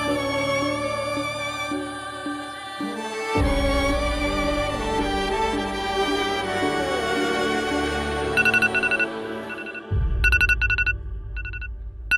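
A short electronic alert tone chimes in bright, repeated bursts over a background of music, sounding like a phone reminder going off nearby.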